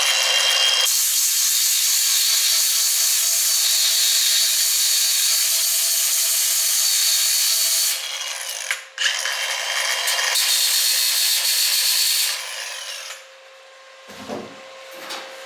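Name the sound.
power sanding a small nick off a car moulding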